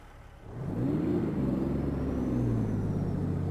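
A Kenworth T404 road train engine in American Truck Simulator cranks back to life after a stall, a low diesel rumble swelling up within a second and then holding a steady, loud idle throughout.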